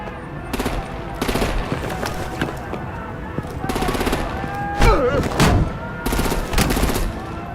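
Artillery and automatic gunfire in a video game cutscene, arriving as repeated loud bursts of rapid shots separated by short lulls. Voices speak among the explosions and gunfire.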